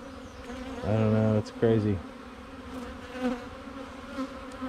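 Bees swarming around a frame lifted from a hive give a steady, close buzz that runs beneath a voice speaking briefly.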